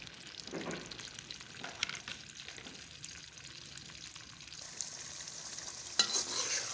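Washed, cut potato pieces frying in a pan, with a soft continuous sizzle under occasional stirring scrapes and small pops, close and fairly quiet.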